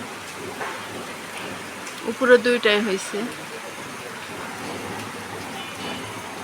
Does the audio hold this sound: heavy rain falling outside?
yes